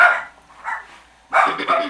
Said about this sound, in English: My dogs are barking for some reason, and I don't know why.